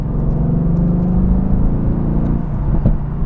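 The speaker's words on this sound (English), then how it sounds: "activate the exhaust. Of course, that immediately gets louder" A Lexus LC 500 or Mercedes-AMG GT exhaust in sport mode rumbles loud and close, a deep steady drone with a slight rise near the end, no voices.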